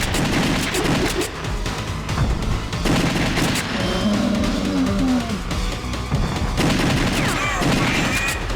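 Rapid gunfire blasts from The House of the Dead 2, the arcade light-gun shooter, fire in loud, dense bursts through the whole stretch, with game effects and a creature's growl mixed in.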